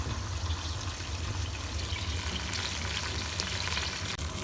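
Chicken tikka simmers in a pan of yogurt and chicken juices for a biryani, giving a steady, close bubbling sizzle throughout with faint stirring noises and no talk.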